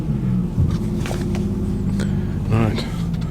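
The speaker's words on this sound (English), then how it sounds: "Fruity burble of the TVR to one side of us" A TVR sports car idles with a deep, fruity burble, low rumbling throb close by at a car meet, with people talking over it.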